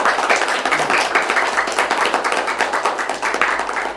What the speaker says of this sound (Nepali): एक जोरदार ताली बजाउन